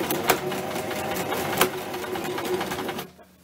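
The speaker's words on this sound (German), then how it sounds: "nähen jetzt etwa so einen Zentimeter, zwei nach vorne, dann wieder nach hinten, nach vorne, nach hinten und machen die erste Naht erstmal fest" A sewing machine stitches thick fabric with a pile back and forth, a close steady mechanical whir with a couple of sharp knocks, stopping abruptly near the end.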